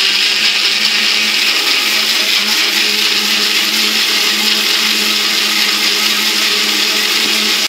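A blender runs at a loud, steady whir with no pauses, puréeing a banana, avocado and pomegranate smoothie.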